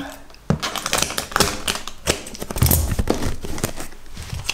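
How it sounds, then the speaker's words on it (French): Tape being stuck onto a parcel during packing: close, busy tearing, pressing and tapping noises in quick irregular bursts, fairly loud, with rustling handling of the box. "Je vais coller un premier comme ça."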